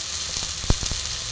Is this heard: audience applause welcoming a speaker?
no